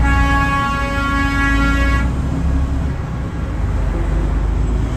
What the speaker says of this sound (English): Look at all these trucks.